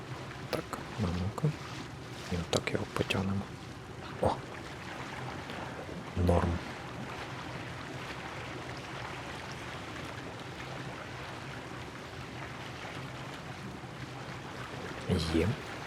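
A small boat glides through dark water in the Little Nightmares game, with soft lapping and a few knocks and splashes. The sound is quiet and continuous.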